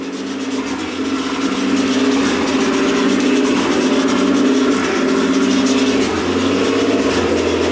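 A Nissan R34 Skyline engine running as it is put into gear, a loud steady mid-toned rumble that swells slightly then settles, close and without voices.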